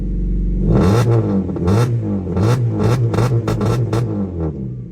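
A car engine cranks and catches, then revs repeatedly in loud bursts, close by, with no talking.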